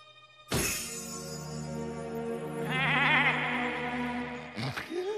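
A cartoon goat lets out one long, loud, wavering bleat that climbs and trembles in pitch before breaking off abruptly, with no other voices.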